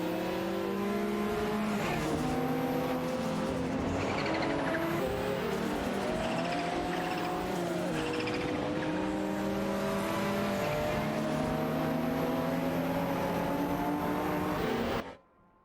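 Racing cars in a video game, including a Nissan Skyline GTR R34 at the Knockhill circuit: several engines roar and rev continuously, pitches rising and falling through gear shifts, overlapping loudly until an abrupt cut at the end.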